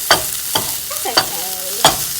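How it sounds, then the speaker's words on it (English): Cheesy eggs sizzle in a hot frying pan while being stirred, with a steady hiss broken by several sharp scraping strokes of a utensil against the pan, close and fairly loud. "So that's just kind of yeah, hear that sizzling."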